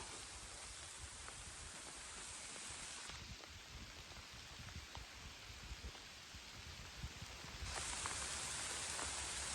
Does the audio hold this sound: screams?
no